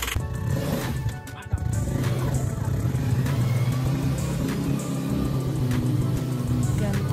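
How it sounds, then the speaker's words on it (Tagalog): A motorized tricycle drives along an unfinished provincial road in Antique, its engine rumbling steadily up close while a voice talks over it. "Ayan ang tricycle namin."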